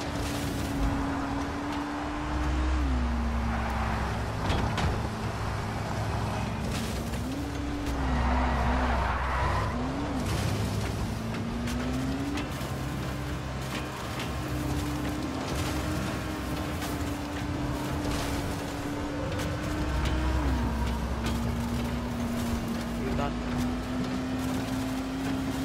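A car is driven in Dying Light The Following, its engine drone rising and falling steadily with shifts in pitch and occasional tire skids, while a person talks over it.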